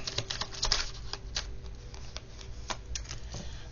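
Tarot cards being shuffled by hand during a reading, giving a steady run of soft papery riffles and light taps close to the listener, with no talking.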